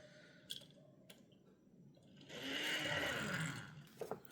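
A 2017 Matchbox Toyota Land Cruiser 78 die-cast toy car rolls across a surface, giving a few light clicks and then a brief whirring rumble of about a second, ending in small taps.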